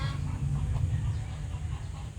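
Low murmuring clucks of hens crowded together in a coop, a continuous close layer of soft overlapping calls with no talk.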